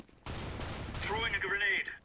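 A flashbang grenade detonating in a video game: a loud sustained burst of blast noise followed by a bright ringing whine that wavers before fading, heard close.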